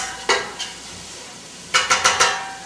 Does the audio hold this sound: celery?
yes